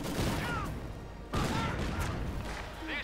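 A grenade blast in Company of Heroes 2 during a clash with Jaeger infantry and a Maxim crew, with a loud burst near the middle that sits among continuous gunfire and other explosions.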